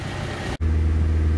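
A Scion tC engine idles steadily with a low, even hum while coolant is topped up; a brief dropout interrupts it before the same droning idle resumes.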